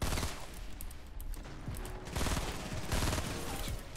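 Dense gunfire from Fortnite crackles steadily at close range in a loud, busy game mix. Sniper fire is part of the barrage.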